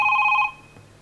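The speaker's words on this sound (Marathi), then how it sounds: "फोन आलेला आहे" A telephone rings with an incoming call on a talk show set, a single short electronic ring burst that cuts off after about half a second, loud and close.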